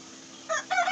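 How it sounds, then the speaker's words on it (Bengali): A rooster crows nearby in two short harmonic bursts after a moment of quiet background hum. "আর আমার মোরগ ডাকছে"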